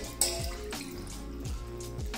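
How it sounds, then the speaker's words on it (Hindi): Water pours into a pan holding jamun fruit, a steady close splashing stream running throughout with a brief sharp clink near the start and no voices. "और इसके अंदर तकरीबन 2 प्याली के जितना मैं पानी डाल दूंगी।"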